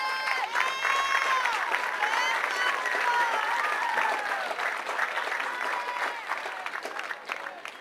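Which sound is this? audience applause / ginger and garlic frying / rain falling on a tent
audience applause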